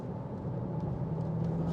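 A Jaguar F-Pace SVR SUV engine at an easy cruise, a steady low, smooth rumble heard from inside the car without talk.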